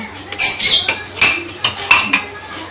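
Dishes and cutlery being washed in a home kitchen: a series of sharp metallic clinks and clatters in irregular bursts, close and fairly loud, with no talking.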